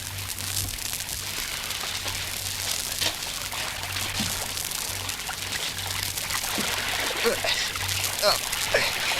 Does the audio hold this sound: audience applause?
no